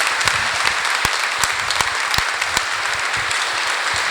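A church congregation applauds during a Lenten spiritual retreat: dense, steady clapping from many hands fills the whole stretch at an even level, with a few sharper individual claps standing out and no voices.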